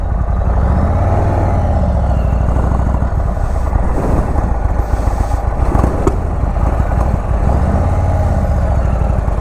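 A 2021 Indian Chief Bobber 116 Stage 2 motorcycle being ridden, its big V-twin engine giving a loud, continuous low-pitched rumble with steady pulsing throb and wind noise, close and unbroken throughout.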